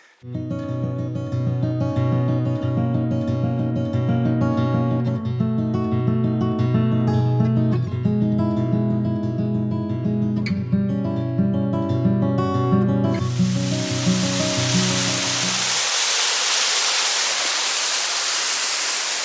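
A waterfall in Great Smoky Mountains National Park roars as a loud, steady broadband hiss in the latter part, taking over from sustained tonal music that fades out beneath it.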